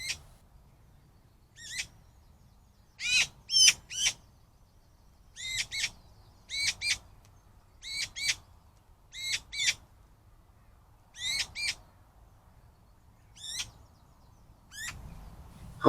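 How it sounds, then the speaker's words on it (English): Young magpies in a quiet wood in June give harsh, rasping squawks in short bursts and pairs, spaced out over about a quarter minute against near silence, fairly close and clear. "I'm guessing the wing flapping and squawking is the youngsters."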